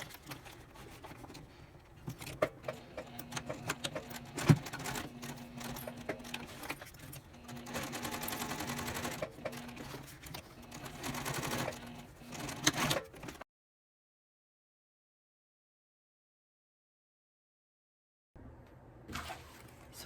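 A sewing machine stitches across the zipper tab ends of a small fabric wallet, running in short rattling bursts with pauses between them. It stops and drops into silence near the end.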